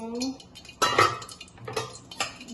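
A lid lifted off a pot of chole cooking on the stove gives a sharp metallic clank followed by a few lighter clinks and scrapes of steel cookware, close and fairly loud.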